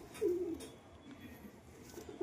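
A female red pigeon coos once or twice, a soft low murmur close by, followed by faint rustling and quiet background noise.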